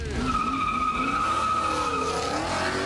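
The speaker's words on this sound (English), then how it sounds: "Illegal street racing on the Memphis city streets at speeds up to 100+ miles per hour" Car skidding during illegal street racing on Memphis city streets: a loud, sustained tire squeal with shifting pitch and engine noise beneath, lasting about three seconds with no talking.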